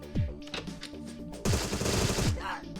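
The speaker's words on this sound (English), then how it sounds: "We got this SMG now, so let's check it out." Automatic SMG fire in the Agent 64 first-person shooter, a sharp burst of rapid shots, a short pause, then a longer sustained stream of gunfire, loud and close with no talking.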